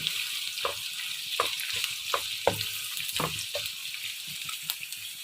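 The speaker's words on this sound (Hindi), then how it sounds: "और 2 मीडियम प्याज हैं जिनके मैंने स्लाइस कर लिए हैं। इन्हें मैं गोल्डन ब्राउन कर लेती हूँ।" Sliced onions frying in oil until golden brown for a Peshawar namkeen mutton dish, a soft steady sizzle with intermittent stirring scrapes and clinks.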